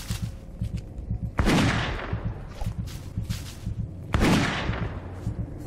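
Two loud rifle gunshots from the Witch Hunt video game, each a sharp crack with a decaying tail, about three seconds apart over a steady game background.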